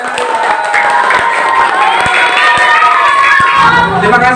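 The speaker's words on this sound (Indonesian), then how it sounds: "Ya, tepuk tangan untuk Mbak." Schoolchildren in a classroom clap and cheer for a young woman, a lively mix of scattered claps, excited shouting and crowd noise, with voices talking over it.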